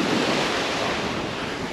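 Sea surf rolling onto a beach at Tarkhankut, Crimea, a steady broad wash of breaking waves with wind buffeting the microphone, loud and continuous with no voices.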